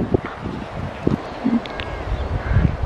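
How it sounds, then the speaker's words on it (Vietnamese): Strong wind buffets the microphone outdoors in rural Vietnam, producing irregular low rumbling gusts and thumps of varying loudness. "Đó, gió này ù luôn."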